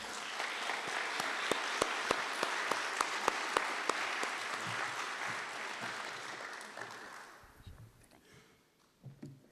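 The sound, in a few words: audience applause welcoming the mayor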